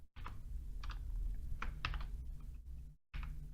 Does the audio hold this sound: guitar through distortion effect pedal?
no